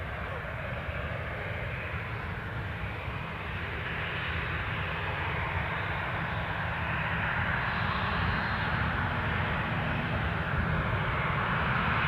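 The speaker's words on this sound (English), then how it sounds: "So the plane you are looking at, bound for Alicante." Airliner bound for Alicante at Newcastle Airport, a steady low jet engine drone that swells gradually in loudness, heard from a moderate distance with no speech.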